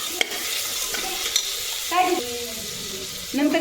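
Onion sautéing in a little oil in a pan, a soft steady sizzle with scrapes and clinks of a spoon stirring, brief louder scraping bursts near the middle and end.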